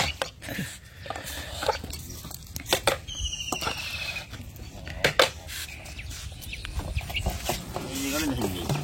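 Golden chickens cluck intermittently around a fish-sorting spot at a farm, moderately near, mixed with scattered clatter and handling noises while people talk over them.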